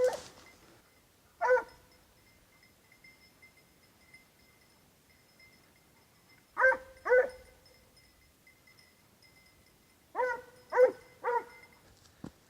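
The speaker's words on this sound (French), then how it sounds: "le chien qui arrive derrière" A hunting dog on a fox hunt in the Minervois barks in scattered bursts, single barks and quick doubles and triples separated by quiet gaps, carrying clearly from moderate distance through open countryside.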